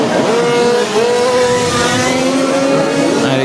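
Several 1/5 scale Formula 1 RC race cars scream past at a French championship final, their high-pitched engines whining and shifting pitch continuously, loud and close.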